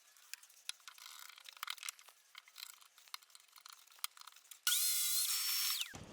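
Wood is clamped against the fence of a miter saw, with scattered knocks and clattering handling, then the saw roars loudly through a wooden board for about a second before its motor winds down, with no talk.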